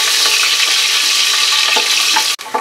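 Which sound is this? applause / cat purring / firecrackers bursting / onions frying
onions frying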